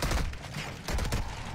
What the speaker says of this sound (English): I'm getting shot in my fucking back, brother